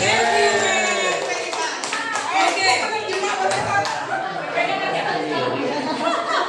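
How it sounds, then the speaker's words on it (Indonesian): An audience at a school in-house training session claps for a presenter, with scattered applause mixed with lively chatter and voices throughout. "Kasih aplaus buat Mem Fitri."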